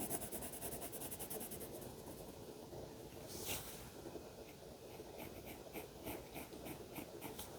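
Colored pencil scratching steadily across paper, a continuous close, soft grainy rasp with faint rhythmic strokes near the end.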